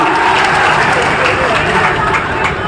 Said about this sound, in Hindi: ताली तो बजाओ यारो, जोर से बजाओ